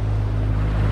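A fishing boat idles slowly on the open ocean off Fraser Island, its engine a steady low drone under the wash of waves and wind buffeting the microphone.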